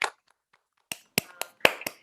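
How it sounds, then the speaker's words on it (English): A few scattered hand claps sound one after another after a talk over a video call, close and sparse rather than a full ovation. "I want to invite everybody to unmute themselves and give a big applause to"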